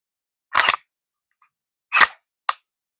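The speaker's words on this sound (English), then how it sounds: "you hear that click? Now it fires." SIG Sauer P320 pistol dry firing with the slide racked and light trigger pressure: a sharp mechanical click, then a louder snap, repeated in three isolated bursts with silence between.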